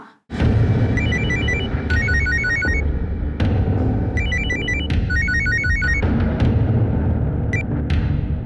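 A telephone rings during an outgoing call, its electronic ringtone repeating in clear bursts of stepped tones over a steady background hum.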